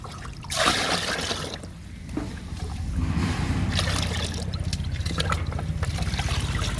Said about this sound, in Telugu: ఇంకా పండ్ల మొక్కలకి ఇచ్చేద్దాము ఈ లిక్విడ్ని